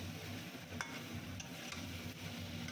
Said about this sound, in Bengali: খুব সুন্দর করে আমি এখন মশলাটা খুব সুন্দর করে মাখিয়ে ফেলছি